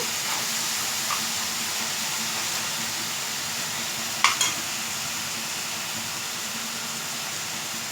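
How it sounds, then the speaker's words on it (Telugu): Onion and curry leaves frying in oil for gongura mutton curry, a constant close sizzle and hiss with a couple of sharp spoon clinks in the middle. "ఫ్రై అవ్వాలి, ఆనియన్ పచ్చివాసన పోయేదాకా ఫ్రై చేసుకోవాలి."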